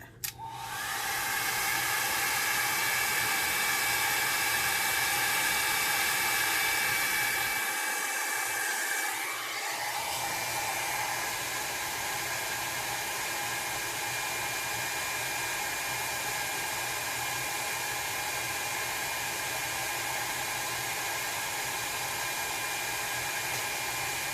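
A hair dryer blows steadily on alcohol ink laid on a ceramic tile, a loud, constant close-up whoosh that starts abruptly and runs without pause, its tone shifting slightly partway through as the airflow is redirected.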